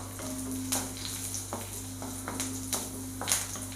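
Sliced onions and curry leaves frying in hot oil in a pan for a Kerala-style curry, a steady soft sizzle with occasional light stirring clicks, close and moderately quiet, no voices.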